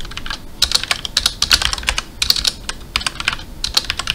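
Rapid typing on a computer keyboard, close and crisp, with clustered bursts of key clicks and short pauses between them, no talking.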